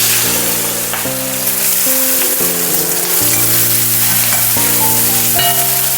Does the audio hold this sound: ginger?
yes